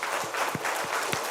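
Church congregation claps in praise during a Korean Sunday service, a short, fairly even burst of applause at moderate loudness with no voices over it.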